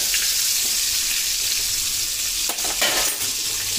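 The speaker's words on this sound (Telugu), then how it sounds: "ఇలా మధ్య మధ్యలో కలుపుకుంటూ ఉండాలి." Green chillies and tomatoes for chutney sizzling in hot oil in a kadai while being stirred, a continuous frying hiss with a few scraping stir strokes near the end and no talk.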